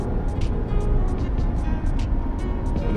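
A low-mileage Mercedes X-Class 250d 4Matic pickup cruising gently, its steady broadband road and engine rumble heard from inside the cabin, with sporadic faint ticks and light knocks over the continuous drone.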